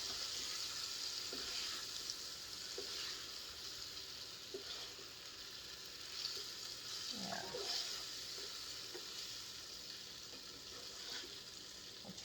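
Beef sizzles steadily in a hot pan, browning ahead of a slow cooker stew, with a constant close frying hiss and a brief scrape or stir midway as the pieces are turned.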